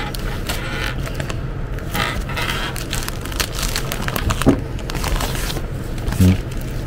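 A plastic Ozon delivery bag rustles and crinkles steadily as it is handled up close, with a couple of sharper crackles near the end.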